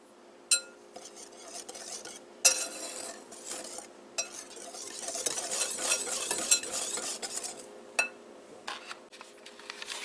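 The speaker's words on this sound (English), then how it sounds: "we're going to mix or whisk this together" A whisk scrapes and clinks around a bowl, mixing kosher salt and baking powder in a home kitchen, with irregular sharp metallic taps and a busier stretch of stirring in the middle; no talking.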